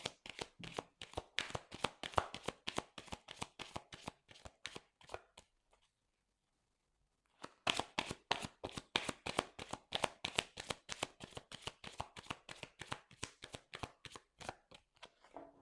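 Tarot cards being shuffled by hand, a rapid run of crisp riffling slaps close to the ear, pausing briefly in the middle before resuming at the same brisk rhythm, with no voice.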